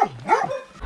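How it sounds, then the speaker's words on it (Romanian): A chained dog tethered with a rusty chain at a rural house in Romania gives a single drawn-out, rising and falling bark-whine, close and fairly loud, followed by quiet. "E același câine legat cu același lanț, care oricum e ruginit."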